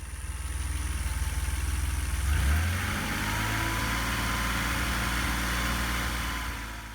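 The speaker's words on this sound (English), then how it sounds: "So I'm going to give it some gas and I'm slowly going to bring it down." A DeLorean engine is given gas, holding a steady raised rev before easing back down toward idle, a close, even drone throughout.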